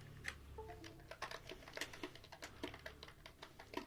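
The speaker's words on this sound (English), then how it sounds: "This is the noise of the keyboard." Quick, uneven clicking of keys on an SR mini wired computer keyboard, a small, noisy board typed on close by, quiet with no voices.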